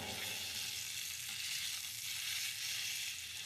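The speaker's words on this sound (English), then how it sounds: "Once we seared that lamb, we've locked in those flavors." Lamb chops sear in a hot pan with a steady, bright sizzle that holds unbroken throughout, close and loud, with no talking.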